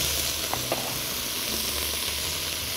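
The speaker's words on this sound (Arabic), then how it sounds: "احط معلقه زبده، احط فص ثوم مفروم" Minced garlic sizzles in a spoonful of oil and butter in a pan, a loud, steady close hiss with a couple of faint clicks and no voices.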